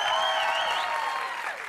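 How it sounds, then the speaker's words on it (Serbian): A TV studio audience at an entertainment show applauds in a dense, steady burst of clapping, with tonal music ringing over it throughout. "Molim vas, jedan aplauz za njih"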